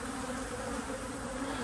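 Honey bees buzzing around hive boxes at an apiary, a steady dense hum with no pauses or voices.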